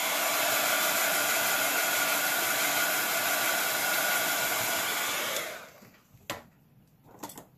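Hair dryer blowing steadily on paint on a rock fairy house, a loud continuous airy roar that cuts off partway through, followed by a couple of small knocks and handling sounds.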